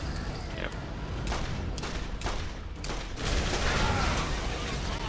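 Rapid bursts of gunfire crackle through a Borderlands video game boss fight, with several sharp volleys and a louder sustained barrage near the end, dense and close.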